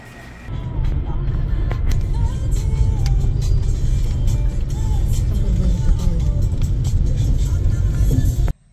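A car rumbles steadily from inside as it drives about ten minutes to a secluded mountain cabin in the Serra Gaúcha, with a continuous loud engine and road drone that cuts off abruptly at the end.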